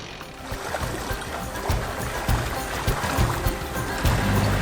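A sailboat motoring under engine at sea in near-windless conditions, a continuous low engine drone mixed with water rushing and splashing along the hull, close and steady.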